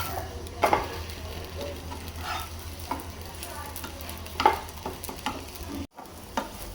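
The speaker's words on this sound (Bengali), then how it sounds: "আলু পরোটাটা একটু বেশি তেলেই ভাজতে হয়, তার পরোটাটা একটু ভালো হয়, ভাজাটা মচমচা হয়।" Aloo paratha frying in a generous amount of oil, a dense close sizzle with occasional spatula scrapes and clinks, alone without talk.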